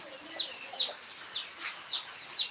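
Chickens cluck repeatedly in short bursts, fairly soft and a little distant, over a steady hissing wash of falling rain on a farm.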